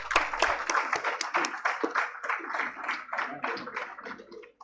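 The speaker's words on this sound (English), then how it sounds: "please give him a big round of applause" An audience at a conference award presentation applauds, a crisp burst of many hands clapping that thins out and fades over several seconds.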